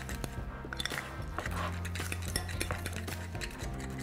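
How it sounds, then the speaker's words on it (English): Deviled egg filling with Tabasco, salt, pepper, parsley, dill and scallions being stirred in a bowl, a steady run of soft scraping and clinking utensil taps, close and clear with no talk. "And let's just mix that all together."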